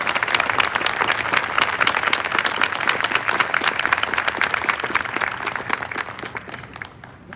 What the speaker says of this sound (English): Please join us now in a round of applause to all of these cadets for their outstanding achievement.